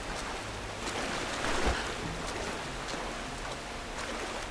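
A waterfall in Tomb Raider rushes as a dense, continuous broadband roar, steady and fairly loud with a brief swell partway through and no voices.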